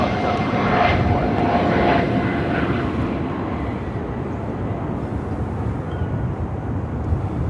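A DHL converted Boeing 767 freighter roars loudly overhead at Phoenix Sky Harbor airport, its jet engines swelling and then fading as it passes, while a voice talks faintly underneath.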